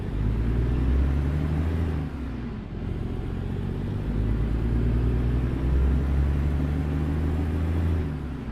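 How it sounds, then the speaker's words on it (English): A Freightliner FLD truck with a 600-horsepower Detroit engine and Eaton Fuller UltraShift transmission in American Truck Simulator, a steady low diesel drone under cab rumble, continuous and fairly loud with a slight dip partway through. "we're still in the Freightliner FLD, running a 600 horsepower Detroit ED16 with a Eaton Fuller Ultra shift"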